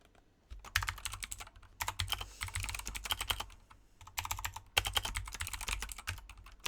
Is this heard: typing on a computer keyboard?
yes